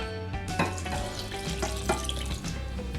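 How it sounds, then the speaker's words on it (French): Cream and milk mixture poured from a pan onto whipped, whitened eggs for crème brûlée, a steady close liquid pour with faint clinks of the container, no talking. "je vais verser mon mélange crème lait sur mes œufs blanchis"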